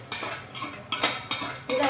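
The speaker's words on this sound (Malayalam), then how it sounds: "കടുക് വറുത്തോണ്ട് അതൊക്കെ മിക്സ് ചെയ്യണം കേട്ടോ." A spoon stirs mango pickle mixed with fried mustard seeds in a vessel, several sharp metallic scrapes and clinks at uneven intervals, close and fairly faint.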